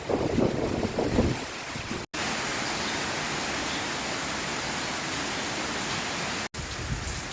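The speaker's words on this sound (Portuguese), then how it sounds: "O diabo dessa chuva" Heavy rain pours down in a steady, loud broadband hiss that fills the whole stretch, cut by two brief dropouts; there is no talking.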